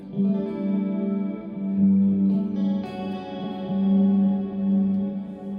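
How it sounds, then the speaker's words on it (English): A sustained guitar tone through an amp preset with chorus, reverb and delay, holding shimmering notes that swell and fade, with echoing tails and no talking. "So I have this preset, which is an amp chorus reverb delay"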